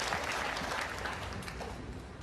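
Snooker crowd at the 2023 Shanghai Masters quarter-final applauding a century break, a steady, dense wash of clapping that holds evenly for a couple of seconds with no voices over it.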